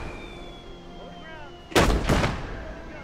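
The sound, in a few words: mortar firing in the video game Gates of Hell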